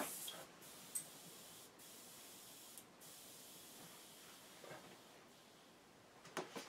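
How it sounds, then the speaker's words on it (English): Airbrush used with Tamiya paint vents leftover air from a switched-off compressor: a faint, steady airy hiss broken by a few soft puffs and taps. "still got a little bit of air in my compressor, so let me just blow that out"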